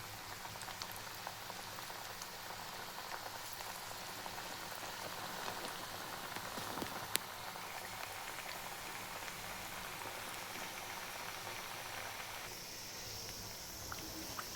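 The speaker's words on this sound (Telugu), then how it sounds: "వేడి వేడి వడలు, వేడైంది నూనెలో అయితే నేను వేస్తున్నా." Onion vadas deep-frying in hot oil, a steady dense bubbling crackle that holds at even loudness throughout, close and continuous with no talking.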